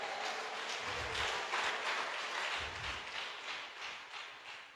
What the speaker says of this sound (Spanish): Dale fuerte ese aplauso a Él